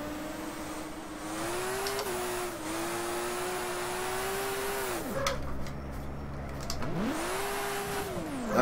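A race car engine in rFactor drifting at Road Atlanta holds a steady high whine, then drops sharply as the driver brakes with the handbrake, idles low for a moment, and climbs back to a high rev.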